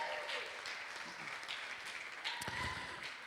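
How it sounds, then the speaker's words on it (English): Wedding guests applaud both fathers during the reception speeches, a steady dense clapping from a crowd filling the room, with faint voices mixed in. "One more time, a round of applause for both fathers."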